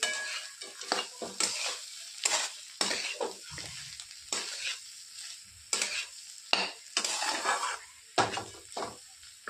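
Yellow potato sabzi with a pinch of asafoetida cooks in a pan, making a soft sizzle broken by repeated scraping and stirring strokes and light utensil clinks, with no talking.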